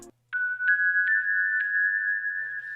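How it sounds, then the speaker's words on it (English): A bright synthesized bell tone from the Music Box 2 preset in Analog Lab plays several soft repeated struck notes on one pitch, ringing and sustained, clean and alone. "For my bell sound, I used a preset called Music Box 2 inside of Analog Lab."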